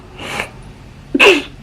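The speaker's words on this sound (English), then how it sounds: "Is that a sneeze?" A single sharp human sneeze bursts out close and loud after a faint inhaled build-up, alone with no talk over it.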